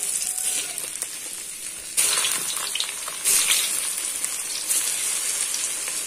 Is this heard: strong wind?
no